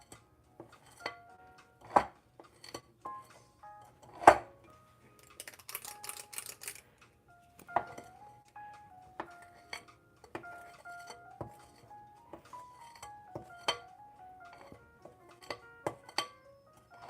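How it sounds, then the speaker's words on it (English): Cookie dough is scooped out in a quiet kitchen with a series of sharp clicks and taps from the scoop against a tray or bowl, irregularly spaced, close and fairly faint, with a brief scraping rustle midway. "I'll show you after I scoop out the cookie doughs."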